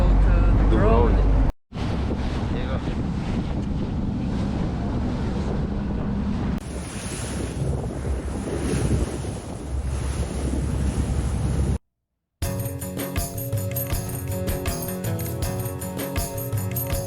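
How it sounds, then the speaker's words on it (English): Wind buffets the microphone aboard a water boat heading to Dubrovnik, with waves and surf rushing steadily beneath and brief cuts in the roar. "We are on a water boat to go to Dubrovnik."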